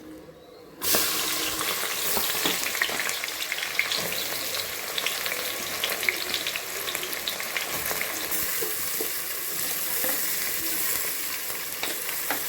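Large onions frying in ghee and oil for mutton biryani give a steady, dense sizzle that starts abruptly and runs loud and continuous throughout, with faint stirring clicks and no talking.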